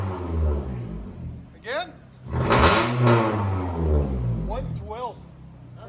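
A 2010 Scion tC with a straight-pipe exhaust revs loudly up close in a few sharp bursts, its rough rising and falling roar separated by brief idle dips, with a voice speaking briefly between revs.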